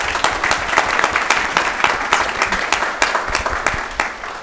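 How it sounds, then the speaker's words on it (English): Audience applause at an idea competition event, steady clapping from a moderately sized crowd with distinct individual claps, fairly close and without talk. "another round of applause for Emmeline."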